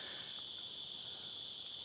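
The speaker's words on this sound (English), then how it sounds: "There's just a few singing here, and eventually the trees will go silent again as all things cycle on." Cicadas sing in the forest of Garigal National Park near Sydney, a steady, bright, continuous buzz that holds without a break, fairly close and alone.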